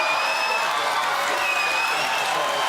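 A studio audience claps steadily throughout, dense broadband applause with some crowd noise, loud and continuous with no break.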